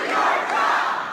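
A town hall crowd of about a thousand people jeers and shouts down Congressman Jason Chaffetz, a loud, sustained roar of booing voices filling the room without a break.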